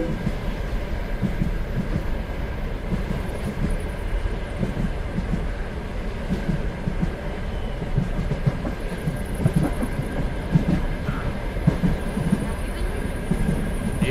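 A train ambience playing inside a VR app, a continuous rumbling railway hum with faint clickety-clack and occasional light clicks, a steady moderately loud bed of sound throughout.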